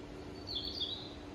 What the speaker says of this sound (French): Il y a même les oiseaux et tout